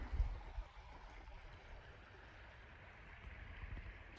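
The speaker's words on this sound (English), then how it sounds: "I get this beautiful creek view to enjoy it by" A creek in Red River Gorge flows steadily nearby, a soft continuous wash of water with a few louder splashes at the start and no talking.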